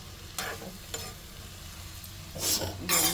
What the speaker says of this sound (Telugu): సో ఇదండి ఈ వంకాయల్లోనే టమాటో వేసేసుకోవాలి